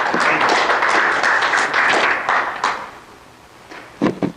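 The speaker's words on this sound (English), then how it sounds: "let's give Andy a round of applause." Steady applause from an audience at an aerial applicator safety meeting for a presenter, dense clapping that fades after a few seconds, with a few scattered claps at the end.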